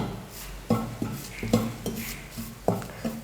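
Metal spoon stirring and scraping grated coconut as it dry-roasts in a pan over a medium flame, several sharp clinks and scrapes at an uneven rhythm, close and clear with no talk.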